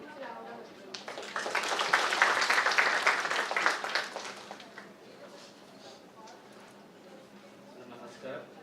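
A conference audience at a manufacturing summit bursts into applause, a dense, fairly loud clatter of many hands that peaks quickly and then tapers off into quieter scattered claps.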